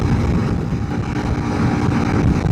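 A Honda CRF300L big-bore rally bike cruising steadily at highway speed, its engine drone blending with heavy rushing wind noise, loud and constant throughout.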